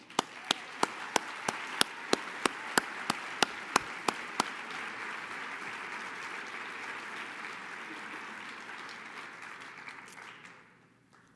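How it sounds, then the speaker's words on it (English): A forum audience at a VetCorps leadership event applauds a first cohort. Loud, sharp claps ring out near the start over a steady wash of crowd clapping that tapers off toward the end. "I would ask you to applaud them"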